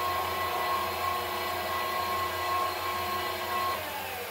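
A FATOSA paddle-style mixer and blender runs in reverse with a steady, even motor hum and a faint whine on top. The sound is close and continuous, with no voices.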